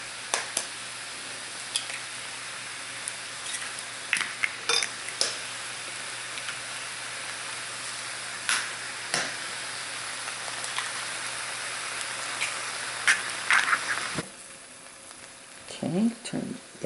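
Four eggs fry in a pan over low heat, giving a steady rain-like sizzle with scattered crackles and pops that runs throughout. The sizzle drops away near the end while faint kitchen clatter continues.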